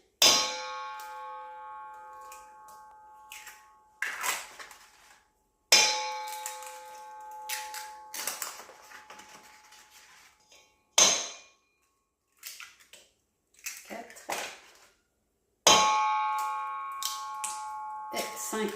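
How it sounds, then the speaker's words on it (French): Five farm eggs cracked one after another against a dish, each a sharp clang with a brief ringing ding, separated by quieter handling and pauses, close and clear with no talking. "Je vais casser 5 des 6 œufs que j'ai ici."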